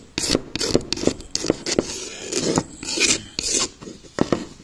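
A small knife scrapes grease off wood in quick, rasping back-and-forth strokes, close up and steady, with no talking.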